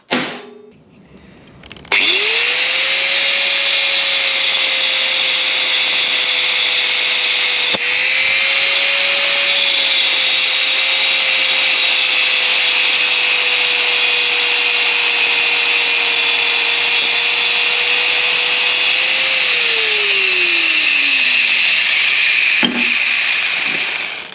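A cheap $2 cutting disc on a power tool spins up with a steady high whine and cuts into wood, the pitch holding for a long stretch and then winding down toward the end, loud and close with no talking.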